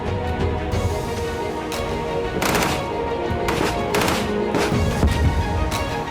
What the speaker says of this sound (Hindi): भीषण फायरिंग शुरू हो गई